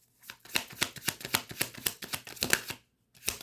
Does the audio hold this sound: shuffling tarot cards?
yes